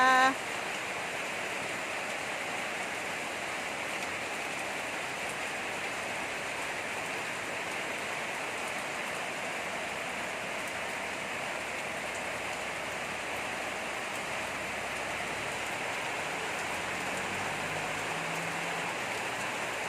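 Steady rain falls without a break, a dense even hiss of drops on surfaces that holds at moderate loudness throughout, with faint low sounds near the end.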